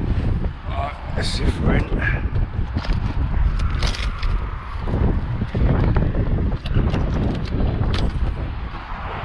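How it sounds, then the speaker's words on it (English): Strong wind buffets the microphone on a windy bricklaying site, a constant roar with brief gusty swells, while someone talks over it. "Windy again, another windy day."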